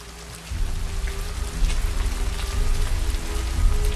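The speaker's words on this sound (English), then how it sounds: "It's still raining." Steady rain falls outdoors near a lake in a film scene, a continuous close patter that thickens after the first half second and holds a low rumble underneath, with a faint tonal hum and no talking.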